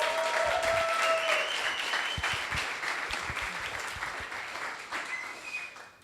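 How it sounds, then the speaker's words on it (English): Sustained audience applause at a coding bootcamp demo day in Barcelona, loud and dense at first and then slowly thinning and fading over about six seconds. "So let's give her a round of applause."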